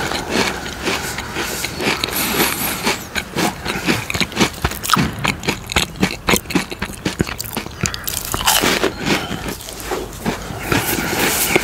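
Crunchy Chinese swirl biscuits being bitten and chewed up close, with dense, irregular crunches and mouth sounds running steadily throughout, loud and without any talking.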